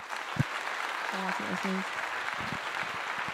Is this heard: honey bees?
no